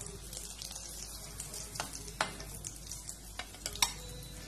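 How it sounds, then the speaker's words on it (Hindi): Boiled potatoes fry in oil with turmeric and salt, a quiet sizzle punctuated by scattered sharp spatula taps and stirring clicks close by. "आलू को मैंने पहले बॉईल कर लिया था तो उसे अभी तेल में फ्राई कर रही हूँ हल्दी और नमक के साथ।"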